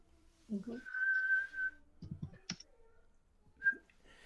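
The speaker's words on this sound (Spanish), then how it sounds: "haz como si, silbaras" A person whistles a sustained clear note, then a short second note later, with a few clicks and faint background sounds in between.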